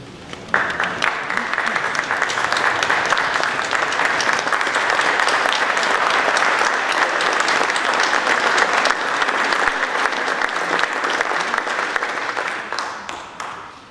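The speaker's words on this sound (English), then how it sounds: "You all deserve a round of applause for your efforts" Sustained applause from a sizeable crowd at a community appreciation night, dense and even for many seconds before tapering off at the end.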